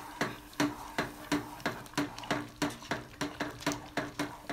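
A spoon stirs roasted rava for upma in a metal pan, knocking and scraping against it in a steady, evenly paced rhythm of about a dozen close, crisp clinks with nothing else over it.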